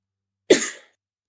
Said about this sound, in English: And you cough again?